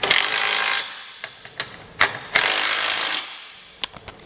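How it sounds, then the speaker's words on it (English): A 19mm socket tightens trailer hitch bolts on a 2020 Honda Odyssey, with bursts of loud ratcheting or impact-tool rattle followed by metallic clicks and knocks up close. "At this point, we can come back and tighten our bolts down. So for these 2, I'm going to use a 19mm socket."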